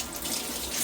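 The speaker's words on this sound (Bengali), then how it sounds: "এই পাশ দিয়ে দেখেন অনেকগুলা ধনে পাতা ধুয়ে নিতেছে" Tap water runs steadily over coriander leaves being washed in a sink, a continuous close hiss and splash lasting under a second.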